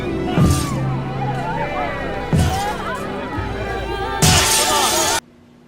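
A wicker chair smashes through glass in an animated film, with repeated loud crashing shatters over a constant background of crowd murmur and voices, ending abruptly.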